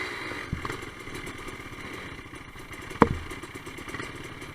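A Suzuki DRZ dirt bike engine runs steadily on a woodland trail ride, a continuous mid-pitched motor drone with a sharp clattering thump near the middle and a smaller knock early on.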